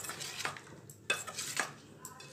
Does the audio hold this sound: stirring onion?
yes